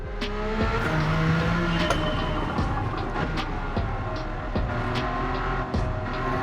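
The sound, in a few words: Jaguar XJ220 race car engine accelerating in Gran Turismo 7 (video game)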